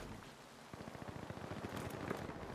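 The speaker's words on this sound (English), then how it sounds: "I like this rain. I never seen rain in this game yet." Rain falls in the shooter game The Finals, a faint steady patter with a rapid run of crackling drops building midway.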